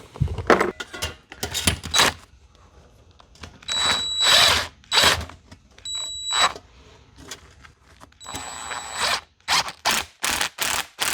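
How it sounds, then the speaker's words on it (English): A DeWalt cordless power tool whirs in repeated short bursts, driving fasteners on a wood stove exhaust pipe inside a box van, mixed with metallic clinks and handling noises between runs. "I will just go ahead and use my DeWalt rather than like an actual, you know, impact."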